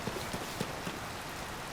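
Rain falls in the video game Zelda: Tears of the Kingdom, a faint, steady patter of drops with soft, irregular taps and no voices.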